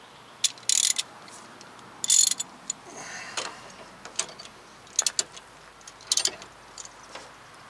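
A torque wrench clicks and ratchets on a brake bolt of a 2005 Lexus ES330 during rear bearing and brake work, giving short bursts of sharp metallic clicks spaced irregularly against a quiet background.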